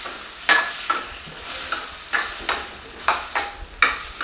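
Radish sambar ingredients stirred and sautéed in a pan, a quiet sizzle under repeated scraping strokes of a spoon at an irregular rhythm, close by.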